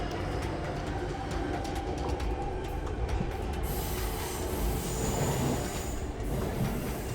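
A double-decker train to Versailles rolls steadily along the rails, a continuous rumbling roar with a faint rhythmic clatter of wheels throughout, heard from inside a carriage.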